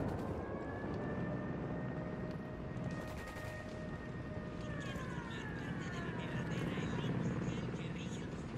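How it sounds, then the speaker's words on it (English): Helicopter in the video game Ghost Recon Wildlands, a steady whirring rotor drone held throughout, with sporadic distant gunfire and voices talking over it. "Helicopter, get down."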